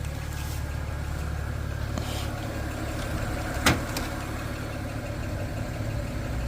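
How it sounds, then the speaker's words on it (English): A 2007 BMW 335xi engine idles steadily nearby, its continuous low hum carrying a faint ticking from a noisy lifter and one sharp click partway through. "Just have that one super noisy lifter, I'm guessing."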